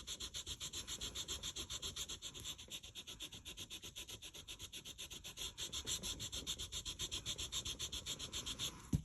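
An eraser scrubs hard over paper through a stencil in quick, regular back-and-forth strokes, a close, dry rhythmic rubbing that keeps a steady pace throughout with no talking.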